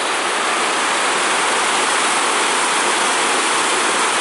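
Floodwater of the Newport River in Ireland rushes over stones, giving a loud, steady broadband roar with no breaks and no voices, close to the flow.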